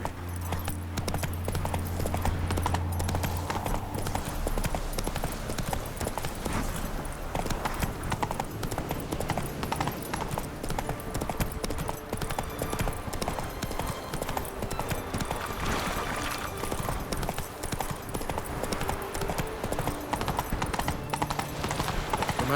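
Geralt's horse Roach ridden in The Witcher 3, a steady, close clip-clop of hooves continuing throughout under faint ambient game music.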